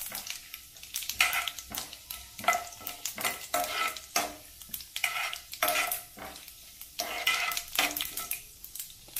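Mustard seeds, cumin, urad dal and chana dal crackle and fry in hot oil for a Bengaluru-style chayote palya, with repeated scraping stir strokes against the pan, close and steady with no voices.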